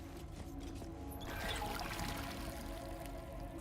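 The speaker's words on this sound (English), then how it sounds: "Water pump." Water pump in Baldur's Gate 3 gushing water, a steady close pour with a surge of splashing partway through, continuous and fairly quiet with no talk over it.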